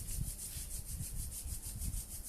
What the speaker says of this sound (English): they like to rub their palms together